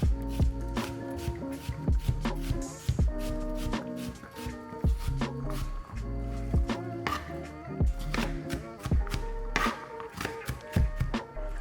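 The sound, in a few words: knife chopping onions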